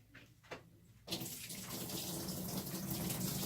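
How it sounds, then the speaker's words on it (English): Used rinse solution from black-and-white film developing is dumped out, pouring in a steady, loud rush of water that begins abruptly after a second of near quiet with a few faint clicks. "now I'm going to dump my rinse solution."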